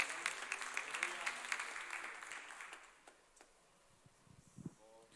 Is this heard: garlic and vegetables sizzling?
no